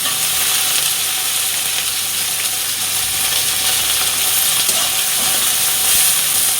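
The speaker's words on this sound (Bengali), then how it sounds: "পেঁয়াজটা ভালো করে ভেজে নিতে হবে।" Onion, garlic, green chilli, dried red chilli and nigella seeds fry in a pan for a prawn paste dish, giving a loud, steady, dense sizzle that carries on without a break and has no talking over it.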